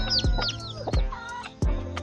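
Hens in a backyard coop cluck in short, rhythmic bursts, a few sharp calls spaced across a couple of seconds, moderately close with faint chirps mixed in.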